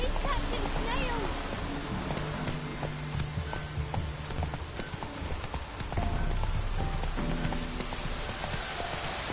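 Roach, a horse in a video game, gallops at a steady, rapid clip-clop of hooves, close and continuous, with a patter like rain underneath and a voice speaking over it.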